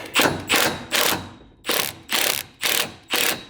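A hand ratchet unbolting the shocks on a Mazda FC RX7 clicks in seven loud, close strokes, each a rapid rattling burst, with a short pause after the third.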